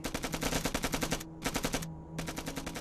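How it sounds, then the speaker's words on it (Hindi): Rapid automatic gunfire from rifles in a Hindi war film fills the air, loud and near in sustained rattling bursts broken by brief pauses. "ये जो फायरिंग है ये उनके बंदूक की है।"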